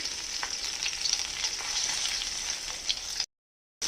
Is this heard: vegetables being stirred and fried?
yes